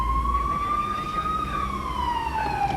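A fire engine's siren wails steadily nearby, its tone sweeping slowly up and down over the constant rumble of road traffic, heard from a vehicle following it to a hospital callout.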